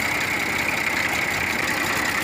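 An IMT 540 tractor engine running smoothly after a full overhaul, a steady unbroken drone with an even idling hum and no audible speech.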